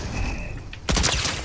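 Hand cannon gunfire in the video game Calamity Reload, a sudden loud burst of several rapid shots crackling close up after a quieter stretch of game ambience.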